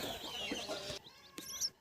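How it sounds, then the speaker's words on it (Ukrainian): Farmyard chickens clucking nearby, several short cackling notes in the first second followed by a few sharper, higher clucks and chirps after a brief pause, fairly faint. "Ну, курка, як завжди, тут."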